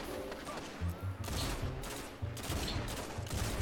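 Gunfire from a Destiny Iron Banner multiplayer match, a run of repeated low-pitched shots pulsing steadily over continuous game noise and music, loud and close throughout.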